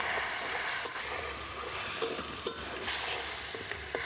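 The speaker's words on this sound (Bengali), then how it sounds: "পেঁয়াজটা আমি লাল করে ভেজে নেব।" Ground onion paste fries in hot oil, a loud steady sizzle and hiss close up, with occasional clicks of stirring.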